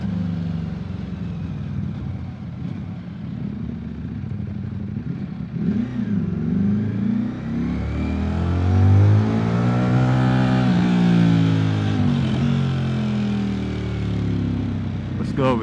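A motorcycle engine idles, then revs up in long rising and falling sweeps, loud and close, with a person talking over it.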